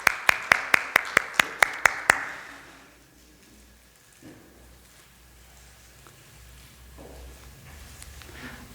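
A Korean church congregation at a Sunday thanksgiving service claps for the fathers: about eight sharp, evenly spaced claps in unison, then the room falls into a quiet hum.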